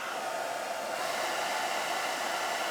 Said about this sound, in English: you can tell the hair dryer is not pumping out as much as it could.